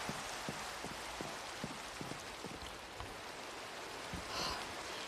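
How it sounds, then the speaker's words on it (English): Steady rain drums on a roof in a video game, a dense even patter with scattered nearby drips and taps, soft and continuous with no voices. "I want to hear rain on the roof."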